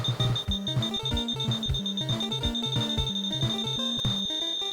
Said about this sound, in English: the beeping noise is faster